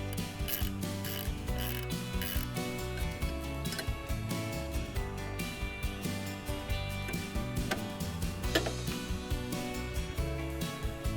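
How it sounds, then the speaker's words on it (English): Ratchet wrench working loose the bolts on a Cobra Fortis lawn mower, a steady stream of close, dense mechanical clicking and metallic turning that keeps going for the whole stretch with no talk. "So we're going to take out this bolt."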